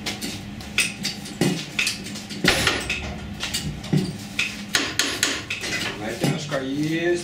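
Sharp metallic hammer strikes on a car's chassis rail ring out repeatedly at irregular intervals during body repair in a garage, close by, with brief clanks and a little background movement.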